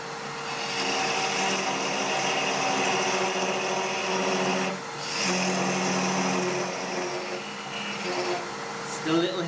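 A parting tool cuts a long-stemmed wooden goblet spinning on a wood lathe, making a steady, buzzy scraping whine that breaks off briefly midway before resuming.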